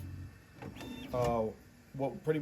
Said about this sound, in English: You see it's retracting right now.